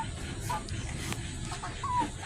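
A Shamo hen that has just laid eggs gives a few short clucks, faint to moderate, over a steady background hum with no talking.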